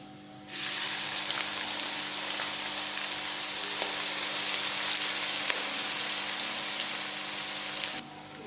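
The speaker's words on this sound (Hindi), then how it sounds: "ज़ीरा हल्का ब्राउन हो गया, अब हम इसमें प्याज ऐड करेंगे।" Onions frying in hot oil with browned cumin seeds for a masala fish curry, a steady loud sizzle that starts abruptly and holds evenly for several seconds before cutting off.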